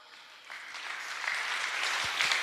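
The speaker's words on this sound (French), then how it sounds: "on acclame." Applause builds from a faint patter to steady clapping at a church Sunday children's gathering, moderately distant and continuous.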